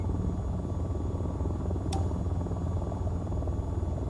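AH-94 stealth helicopter in VTOL VR flying with a steady, close, low rotor thrum and whine that stays constant, with one brief sharp click partway through.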